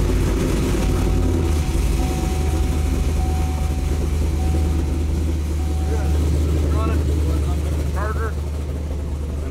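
A cammed LS3 V8 in a fifth-generation Camaro with headers and cold air intake runs on a dyno, a loud continuous low rumble throughout with someone talking over it.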